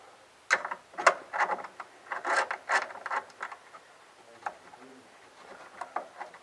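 M6 by 8mm flathead screws are fitted and turned on a Split30, giving close, soft clicking and ratcheting mechanical sounds in irregular bursts that thin out toward the end.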